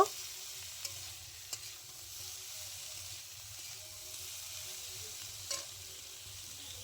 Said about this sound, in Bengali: এবার আমি চিংড়ি মাছগুলো দিয়ে দিচ্ছি, খুব ভালো করে নাড়াচাড়া করে নেব।